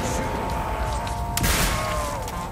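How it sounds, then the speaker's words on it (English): Barrels blown up in Call of Duty Black Ops give a dull, rumbling explosion with a burst of crackling debris partway through, set against continuous low game noise. "it's from blowing up the barrels down there"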